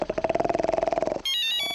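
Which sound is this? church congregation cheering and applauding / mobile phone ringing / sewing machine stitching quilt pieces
mobile phone ringing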